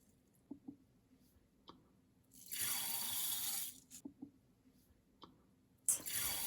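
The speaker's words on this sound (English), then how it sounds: "I'm now adding the water and now the rice." Water poured from a container into the pot of a Chaceef mini rice cooker, a steady splashing pour lasting just over a second, set among quiet small knocks and handling clicks, with a second brief pour at the end.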